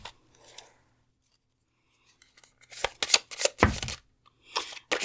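Oracle cards being shuffled for a pick-a-card reading: a faint rustle early on, then a run of crisp, papery riffling bursts grows louder toward the end, with no talking.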